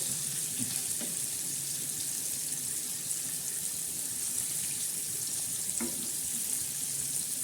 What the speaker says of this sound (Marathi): हे जे तेल आहे ना हे तेल असं मग त्याच्यावर टाकायचं मच्छीवर